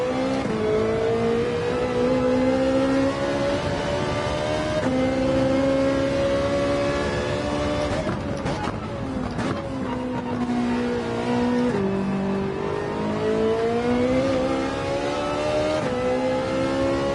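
Race car engine in Gran Turismo 7 on the Daytona circuit, a loud continuous whine that rises in pitch, drops at each gear shift and climbs again, with a brief tire squeal partway through.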